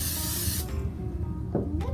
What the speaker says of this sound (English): I'm going to spray it with a little bit of Pam